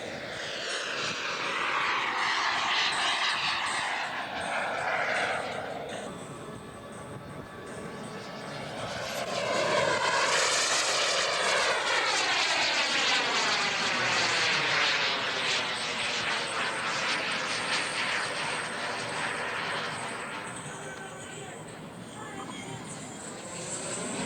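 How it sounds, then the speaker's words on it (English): Scale model F-18 Hornet jet at a scale aircraft show, its turbine whine swelling loudly as it passes, fading, then surging again with shifting pitch as it sweeps overhead during a demonstration flight. "Gary Nitch, F-18 Hornet demonstration"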